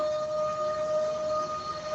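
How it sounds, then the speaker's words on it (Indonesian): A siren passes outside, a steady sustained wail holding an even pitch against faint background noise. "ada sirene lewat."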